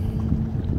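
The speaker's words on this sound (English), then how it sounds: "Wind's blowing about 10 mile an hour" Wind blows over choppy water around a kayak during night fishing, a dense, steady rush of low rumble and buffeting close to the microphone, with no speech.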